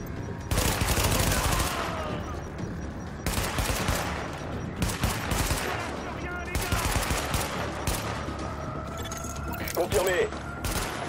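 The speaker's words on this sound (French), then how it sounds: "Les balles, ça défile." Gunfire in The Division on PC, with bursts of automatic weapon fire and sharp shots rattling close and loud through a busy firefight, coming in clusters with short gaps between.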